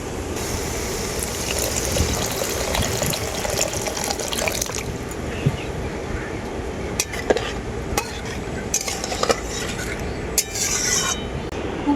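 Water poured into a pan of tomato and spice masala, a continuous watery rush and bubbling throughout, with scraping and stirring clatter breaking in sharply toward the end.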